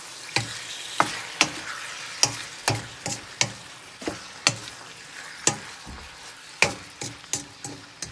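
Beef linguine sauce is mixed in a pan with a spoon that knocks the pan in sharp, fairly regular clacks, around sixteen over several seconds, above a low steady sizzle, close and alone.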